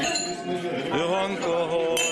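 Glasses clink together once in a toast among a small group, a short bright chime heard close by while people talk over it.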